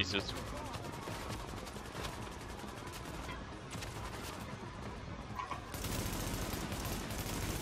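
Rapid automatic gunfire rattles on in the video game The Division, a dense continuous burst with people talking over it.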